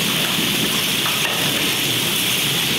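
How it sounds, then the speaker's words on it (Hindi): Heavy rain mixed with hail pours down outdoors, a dense, loud, unbroken hiss and patter close by, with no talk. "लेकिन यार बहुत तेज़ बारिश हो रही है।"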